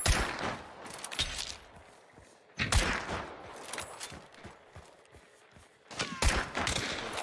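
Video game gunfire rattles in bursts of rapid shots separated by quieter gaps, fairly distant and subdued, with faint footsteps between the volleys.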